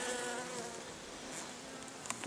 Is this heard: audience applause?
no